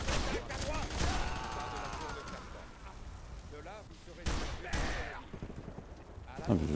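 Assault rifle fire in F.E.A.R. 3, several loud bursts of gunshots scattered through the stretch, with someone talking over the combat between volleys.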